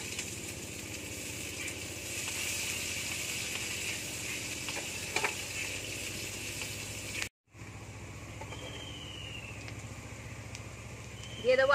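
Chopped onions dropped into hot oil with panch phoron fry with a loud, steady sizzle, briefly cut off before the hiss resumes with faint stirring, no voices over it.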